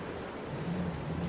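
A thunderstorm sound effect for a sea-voyage audio drama, a continuous low rumble with the steady wash of rain, loud and unbroken.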